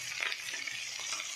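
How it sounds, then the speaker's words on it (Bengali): Gangua fish frying in a pan, giving a steady close crackling sizzle with light stirring scrapes throughout and no voices. "এই যে গাঙ্গুয়ালা মাছ ভাজা বসিয়ে দিয়েছি।"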